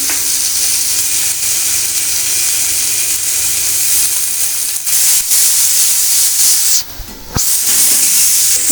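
Oil sizzles steadily in a hot pan over ground ginger, onion and garlic paste, a loud continuous hiss with a brief dip near the end, no talking.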